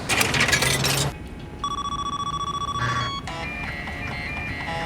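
Telephone ringing in a scene from the TV crime drama The Wire, heard as a steady electronic ring tone with sustained tonal bursts following louder show audio, fairly loud with background noise.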